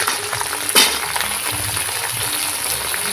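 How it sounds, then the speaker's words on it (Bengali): Papaya, potato, carrot, sweet potato, beans and drumstick pieces stir-frying in hot oil with panch phoron for shukto, a steady close sizzle with a brief utensil clink near the start. "মিষ্টি আলু বিনস সজনে সব সবজিগুলো একটু নাড়াচাড়া করে ভেজে নেব"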